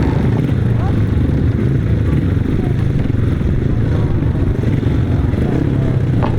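500cc sidecar grasstrack racing machines at a grasstrack meeting, a loud continuous engine roar with clatter, with a crowd or announcer voice mixed in.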